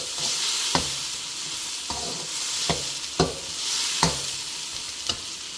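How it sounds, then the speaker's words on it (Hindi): Sausages frying and being stirred into softened cooked tomatoes in a pan, a steady hiss of sizzling oil punctuated by about six sharp scraping clacks of the spoon at irregular intervals, close and clear with no talking. "अब हम इसमें सॉसेजेस डालेंगे, इसको भी अच्छी तरह हम भून लेंगे।"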